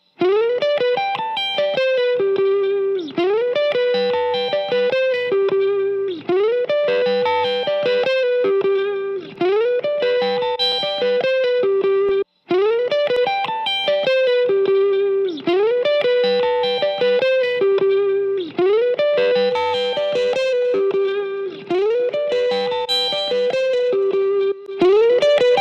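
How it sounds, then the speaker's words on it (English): A dry, unprocessed electric guitar solo track from a studio recording session plays continuously and loudly, with sustained melodic notes and quick phrases repeating over about twenty-five seconds. "This is the actual recorded track without any processing whatsoever."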